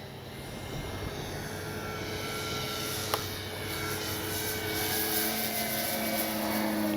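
Hangar 9 J-3 Cub 10cc RC plane in flight on a Sunday afternoon, its engine a steady, fairly distant drone that holds level and swells slightly toward the end, with no talk.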